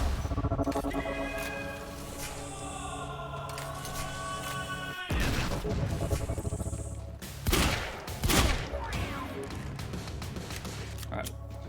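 Turret gunfire in Quantum Break, sustained bursts of automatic shots mixed with game music and ambient rumble, with loud impact bangs and voices talking over it.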